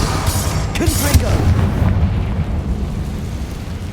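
In Hogwarts Legacy, a Confringo fire spell detonates with a loud, close boom. A short rumbling tail follows, and a voice can be heard around the blast.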